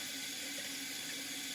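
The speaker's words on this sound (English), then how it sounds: "I had not wet my beauty blender yet, so I need to get that wet." A bathroom tap runs steadily as water wets a makeup beauty blender sponge, a close, even rush of flowing water with no voices.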